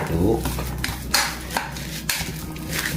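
A utensil scrapes and clinks against a pan in several short strokes, close and fairly quiet, with faint kitchen background noise.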